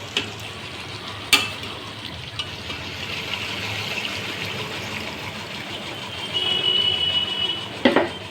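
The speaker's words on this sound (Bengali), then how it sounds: "এবার আমি এতে জল দিয়ে দেবো।" Water poured into a pan of sizzling vegetarian jackfruit and potato curry, a steady frying hiss swelling into a louder bubbling rush near the end, with a couple of sharp clinks along the way.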